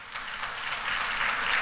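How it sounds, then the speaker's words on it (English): Audience members at a renewable energy conference give their panelists a round of applause, a short, even wash of clapping that swells slightly toward the end with no voices over it. "give our panelists a round of applause"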